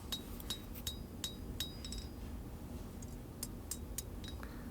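A hammer strikes a full tang steel Bowie knife blade on an anvil during hand forging, a steady series of ringing metallic clinks at an even rhythm over a low background hum.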